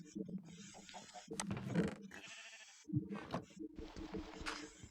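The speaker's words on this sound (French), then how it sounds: "pour nourrir, bien sûr, nos amis les moutons" Minecraft sheep bleat repeatedly in a one-block survival game, wavering calls coming in bursts over clicky game sounds, with a quiet gap midway.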